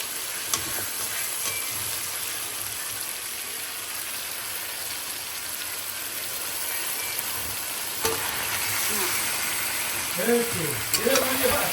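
Spices and fried potatoes being stirred in a pan while cooking chicken curry, a steady soft sizzle with faint scraping throughout and a voice briefly near the end.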